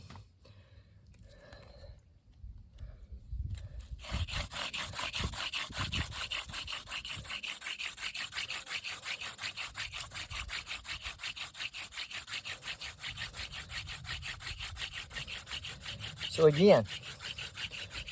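A wooden spindle is spun fast in a hand drill friction fire attempt in humid coastal conditions, giving a steady, loud, rhythmic rubbing that runs unbroken for over ten seconds after a brief spoken phrase at the start.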